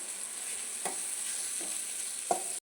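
Onions with turmeric and salt fry in a kadhai, a steady close sizzle with a few soft spoon scrapes as they are stirred, no voices.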